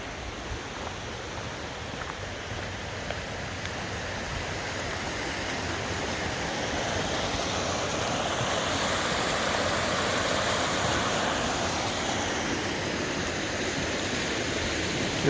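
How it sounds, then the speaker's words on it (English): Water rushes steadily through a stream beneath a trail bridge on a winter hike in Oregon's Coast Range, a continuous broadband flow that is close and fairly loud, swelling slightly midway. "this one's got some water moving through it"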